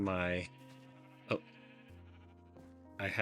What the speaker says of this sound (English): my sheep, tons and tons of sheep